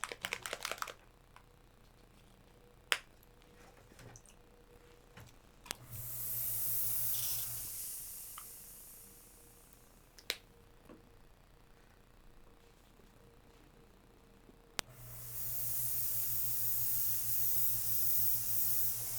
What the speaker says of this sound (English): Now notice too, I'm not just waving around like this when I airbrush.